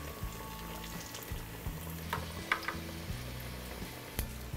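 Banana fritters fry in hot oil with a steady, busy sizzle and crackle, close and fairly quiet, over a rhythmic low background beat, with no voices.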